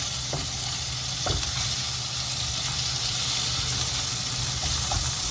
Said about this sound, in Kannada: ಟೊಮೆಟೊ ಹಾಕಿ ಚೆನ್ನಾಗಿ ಇದನ್ನು ಹುರಿಬೇಕು